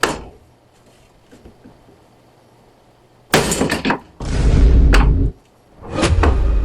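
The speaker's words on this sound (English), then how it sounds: "Been using the old Sledgehammer 2000 here." Heavy sledgehammer blows strike the body of a wrecked Pontiac Fiero, three loud, broadband metallic impacts with crashing decay after a quiet stretch of faint background noise.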